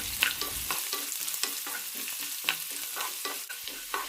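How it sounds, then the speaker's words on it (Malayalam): Chopped carrot and roasted chana sautéed in a pan for flattened-rice poha upma: steady close sizzle with repeated soft scraping stirs at an uneven rhythm, no voices. "ചെറുതായി മുറിച്ച ക്യാരറ്റും നന്നായി വഴറ്റിയെടുക്കാം"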